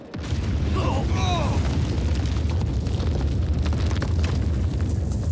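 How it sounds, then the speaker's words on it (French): Explosion in a ship's engine room, a sudden deep boom that bursts out and settles into a loud, sustained roaring rumble, with brief higher tones and cries in the opening seconds. "Explosion dans la salle des machines."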